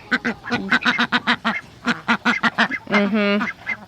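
A duck quacks close by in a quick series of loud, nasal calls, with a short pause midway and a longer drawn-out quack near the end.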